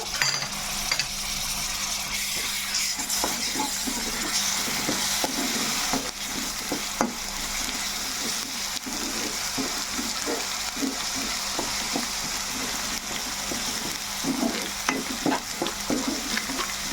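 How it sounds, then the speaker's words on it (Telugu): Onions and homemade ginger-garlic paste fry steadily in a pan, a continuous close sizzle with frequent scraping stir strokes for mutton fat curry, no talking. "ఈ అల్లం వెల్లుల్లి పేస్ట్ కూడా మనకి పచ్చివాసన ఇలా పోయేదాకా మనం వేసుకోవాలండి"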